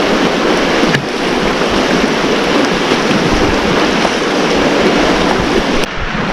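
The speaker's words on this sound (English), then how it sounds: "oh, beautiful waterfall." Steady rushing roar of a waterfall and river flowing through a narrow slot canyon along the Virgin River in the Zion Narrows, loud and continuous throughout with no speech.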